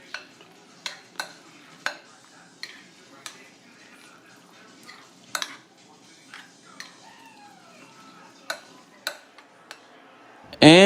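A spoon stirs grated cheddar into a warm green bean mushroom soup mixture, making soft, irregular scrapes and light taps against the dish, with a louder clatter right at the end.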